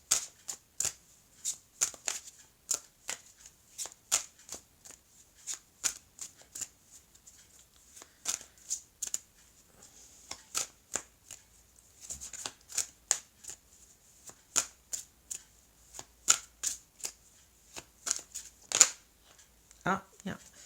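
Tarot cards being handled: a long run of crisp, quick flicks and slaps of cards being shuffled and drawn, close and fairly quiet, in irregular bursts with short pauses between them.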